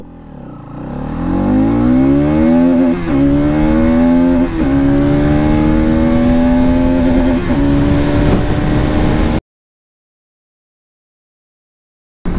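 A Bajaj Pulsar NS200 motorcycle accelerating hard from zero to 100, its engine note loud and close, climbing steadily in pitch with brief dips at each gear shift for about nine seconds before cutting off abruptly.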